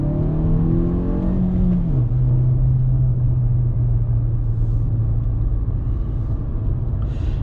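A Fiat Argo Trekking with the 1.3 Firefly engine drives along, its steady low engine drone and road rumble holding close and loud, with a brief drop in pitch as the revs fall early on.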